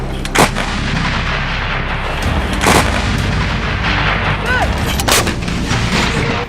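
A French-made Caesar self-propelled howitzer firing outdoors: three loud, sharp booming shots spaced a couple of seconds apart, each followed by a rolling echo, over steady wind and engine rumble.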